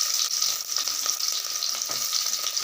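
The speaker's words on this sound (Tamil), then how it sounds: "வெட்டி வச்ச சின்ன வெங்காயத்தை போட்டுக்கிறேன்." Chopped small shallots hit hot oil already crackling with fenugreek seeds, giving a bright, dense, continuous sizzle close by with faint stirring ticks running through it.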